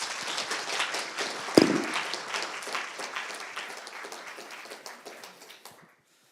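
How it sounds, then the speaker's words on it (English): Audience at a TEDx event at Keele University gives a round of applause for a speaker, dense clapping from a large crowd in a hall that peaks early, then gradually thins and fades to silence. "if we can all give a round of applause for Patrick"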